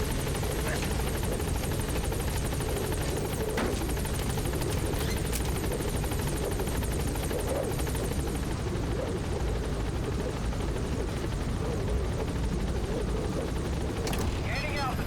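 Helicopter Pequod hovering at a landing zone in the Metal Gear Solid video game, a steady loud rotor and engine drone filling the whole span, with game sounds and voices mixed in.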